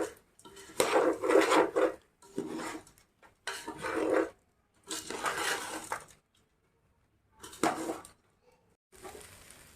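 Utensil scrapes and stirs basmati rice gently in a pan while it fries, in several short bursts of clinking and scraping separated by pauses.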